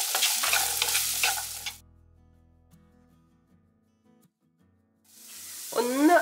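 Large-cut green chili and vegetables fry in a pan for crispy chilli cauliflower, with a sizzling, stirring burst at the start that drops to near silence and a low hum, then sizzling returns with brief vocal sounds at the end.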